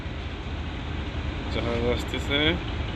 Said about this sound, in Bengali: এই যে জাহাজ আসতেছে